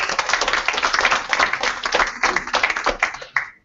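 An audience claps together for Laravel's creator, a dense, steady burst of applause that swells and then tapers off abruptly near the end.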